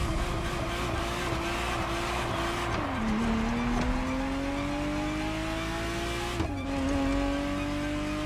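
A Ferrari Testarossa engine in The Crew Motorfest drones loudly and steadily, its pitch climbing and dropping sharply at two gear changes, with faint tyre noise beneath and no talking.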